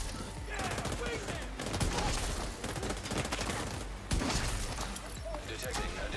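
Pistol fire in The Division 2, a rapid string of sharp shots packed over continuous game noise and background sound, loud and close throughout.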